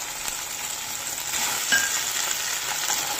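Paneer pieces stirred and coated in a hot pan for a veg roll, a steady close sizzle with soft scraping under it.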